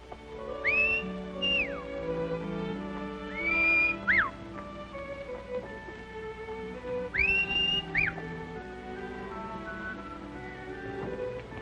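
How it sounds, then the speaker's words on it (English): Three separate rising-and-falling whistles, each a quick two-part call, ring out clearly over a busy background of street noise and music. "I could have sworn I recognized that whistle."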